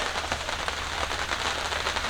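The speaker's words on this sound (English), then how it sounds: "it's starting to lightly rain" Light rain falling steadily on a camp's canvas tent, a soft continuous patter of drops alone with no voices.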